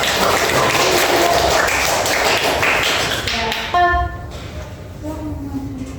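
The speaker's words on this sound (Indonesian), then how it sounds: "kita berikan aplaus untuk kelompok 3" Classroom applause for a presenting group during a microteaching lesson, a dense burst of clapping from many hands that stops abruptly and gives way to a brief voice.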